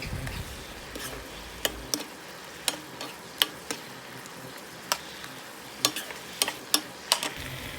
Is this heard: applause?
no